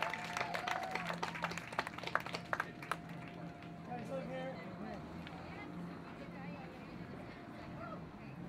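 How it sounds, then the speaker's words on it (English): Small crowd at a bike award ceremony clapping for recipients, brisk scattered claps that thin out after a few seconds into quiet murmuring and chatter. "if I could get a big round of applause for our 2013 Earn a Bike recipients"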